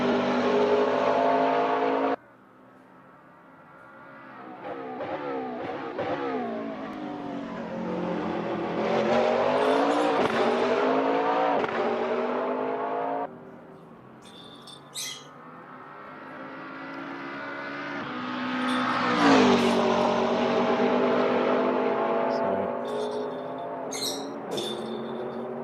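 Race cars in a sim racing game, including a McLaren, scream down a long back straight, engine pitch climbing through gear changes and dropping on shifts, loud and continuous with no talk.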